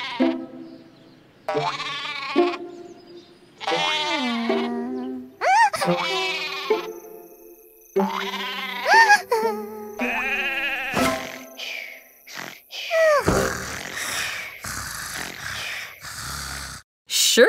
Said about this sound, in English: 49 sheep, and finally fell asleep.